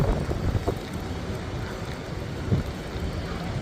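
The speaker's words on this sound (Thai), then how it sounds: "อุ้ย ลมแรงมาก" Strong wind buffets the microphone inside Krung Thep Aphiwat railway station, a constant loud rumbling roar lasting the whole stretch with faint background bustle.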